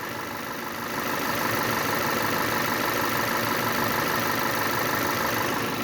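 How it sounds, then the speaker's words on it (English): A 2009 Volkswagen Tiguan 2.0T AWD engine idles steadily, a constant mid-low hum that swells slightly after the first second and then holds even with no voices. "with the motor running"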